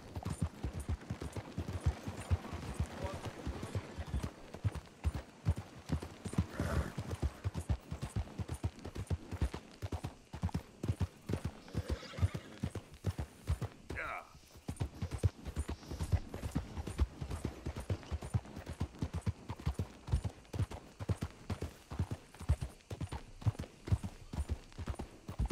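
Steady rhythmic hoofbeats of horses trotting in the video game Red Dead Redemption 2, a brisk clip-clop that continues throughout, with a short neigh-like cry partway through.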